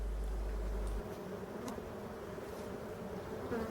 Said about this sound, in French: il y a les abeilles de dehors qui rentrent. Du coup, ça bouscule au portillon